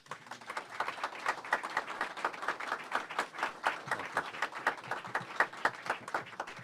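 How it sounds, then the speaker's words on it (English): Crowd applause at a USO lounge welcoming Senator Harry Reid, a moderately sized gathering clapping in a steady patter of distinct hand claps, fairly close and sustained throughout. "would you give a big round of applause and a big welcome?"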